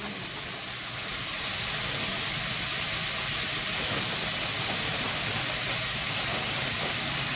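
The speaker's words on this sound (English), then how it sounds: "So these are going to slightly steam because obviously the leeks are frozen." Frozen leeks steaming in a hot pan, a loud, steady hiss that swells in the first second and then holds evenly, with no talking.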